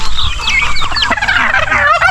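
Several turkeys gobble loudly and close by, overlapping warbling calls with a few clucks mixed in.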